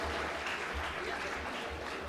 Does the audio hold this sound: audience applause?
yes